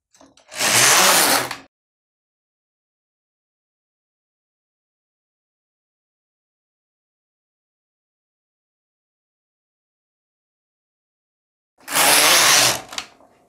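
An LK150 knitting machine carriage sweeps across rows of a beanie in two loud, sustained passes of about 1.5 seconds each, separated by a long silent gap.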